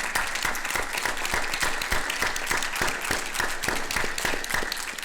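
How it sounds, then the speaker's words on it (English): Applause at a Texas Board of Criminal Justice meeting, dense and continuous clapping from a room of people, loud and steady throughout with no talk over it. "we need a round of applause"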